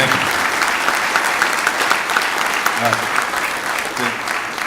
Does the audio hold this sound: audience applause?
yes